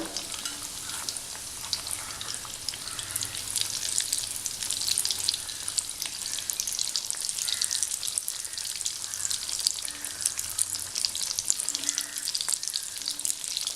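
Red spinach cutlets deep frying in oil, a continuous close crackling sizzle with dense popping bubbles, steady throughout with no voices.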